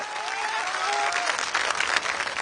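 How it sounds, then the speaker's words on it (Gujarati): Steady, dense applause from a crowd at a Kshatriya community gathering in Jamnagar, loud and continuous throughout, with a faint voice briefly audible at the start. "આ જામનગરના કરંટને તાળીઓથી વધાવો"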